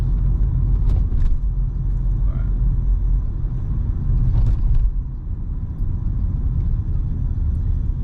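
Road traffic rumbles at a busy Washington DC intersection on a snowy day, a steady loud low roar of passing vehicles with a few brief clanks and knocks, and no talking.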